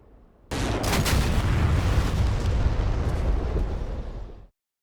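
A bomb impact explosion in DCS, struck after a dive-bombing release, begins with a sudden heavy blast followed by a sustained roaring rumble of about four seconds that then cuts off, with no talking.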